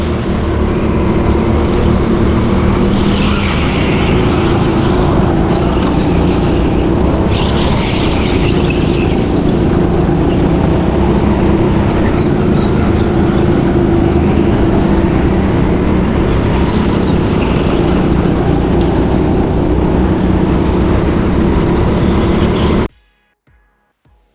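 Go-kart at TeamSport Hull Karting runs a lap at full speed, a loud, continuous engine whine and rumble with small surges as it works through the track, stopping abruptly near the end.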